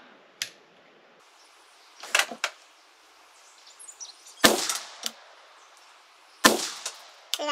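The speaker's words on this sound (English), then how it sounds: "let's go ahead and fire another 3 rounds" A rifle fires rounds at a range while a red dot or scope is zeroed. Several sharp, loud cracks are spread unevenly, two of them especially strong, with smaller clanks and handling noises between shots.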